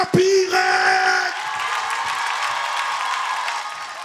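A church congregation at a French-language worship service breaks into loud cheering and yelling, an opening burst of whoops and shouts that settles into sustained crowd acclaim and applause.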